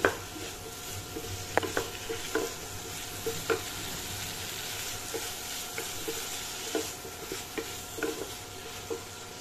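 Potato fritters (alu bora) sautéing with spices in a pan, a continuous close sizzle broken by repeated sharp clicks and scrapes of a spatula stirring against the metal, no voices.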